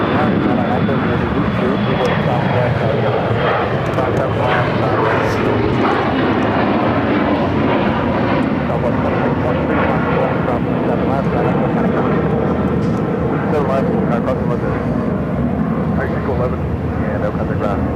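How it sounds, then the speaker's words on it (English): Airliners take off one after another at Phoenix airport, a loud continuous roar of jet engines that fills the whole stretch, with voices talking over it throughout. "it's just one takeoff after another"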